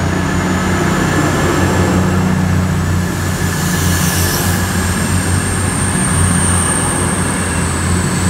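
An East Midlands Meridian train pulls out of Platform 2 at Leicester station heading north, a loud, continuous rumble of diesel engine and wheels with a high steady whine above it.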